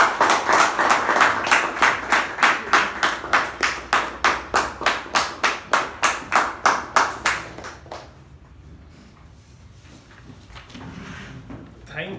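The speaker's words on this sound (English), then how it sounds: "please give him a big round of applause" Audience at a Toastmasters meeting gives a round of applause: loud, steady rhythmic clapping from a small group for several seconds, then fading into quiet room tone with a faint voice.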